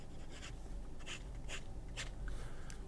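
Fountain pen nib on paper, a Tangmoon Booker writing in soft, scratchy strokes that come in short bursts about every half second, quiet and close over a low steady background hum.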